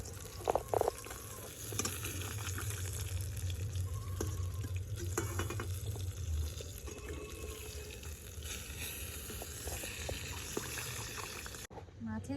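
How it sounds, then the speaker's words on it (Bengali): Rohu fish sizzles steadily in hot oil, a constant crackling hiss with occasional clinks and a voice speaking now and then. "মাছগুলো আমার সব ভালো করে ভাজা হয়ে গেছে"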